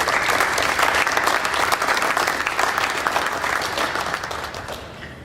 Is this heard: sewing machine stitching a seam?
no